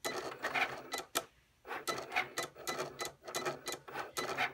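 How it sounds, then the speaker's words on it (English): A Cricut Explore Air 2 draws with a pen in fast mode, its motors whirring in quick rhythmic mechanical bursts, nearby and with no talking. "And then I'm going to hit the Cricut and we'll watch it happen."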